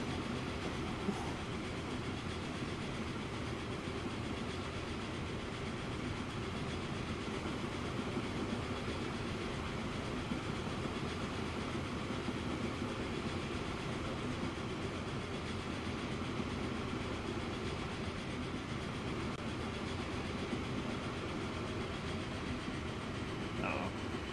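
Passenger train braking on a railway in a video game, a steady, continuous rumble of rail and wheel noise that holds at an even level for the whole stretch with no voices.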